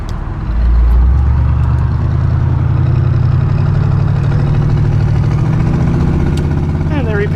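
Steady road traffic rumble heard from inside a truck hauling a canoe on a freshly repaved road, a constant loud low drone of engine and tyre noise throughout.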